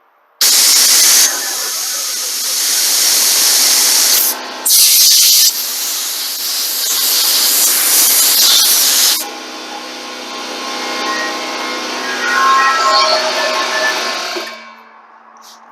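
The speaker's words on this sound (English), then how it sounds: "Now we're going to use the air hose after it's sat for a couple minutes and blow it out" Loud bursts of compressed air hiss from a hose blowing out a Husqvarna carburetor in several blasts with brief pauses, then a softer, fluttering airflow continues before stopping.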